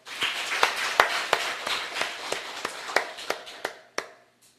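A church congregation clapping during a worship service, a dozen or so sharp claps in a loose, uneven rhythm that slows and stops, fairly close with no talking over it.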